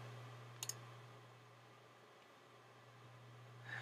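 A computer mouse gives a quick pair of sharp clicks against a quiet hum, followed by a faint trailing sound near the end.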